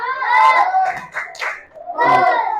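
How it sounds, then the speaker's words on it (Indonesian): Classroom children perform a patterned group clap, the tepuk good cheer, in short rhythmic bursts mixed with young voices chanting and talking, close and fairly loud. "Berikan tepuk good untuk kelompok 4."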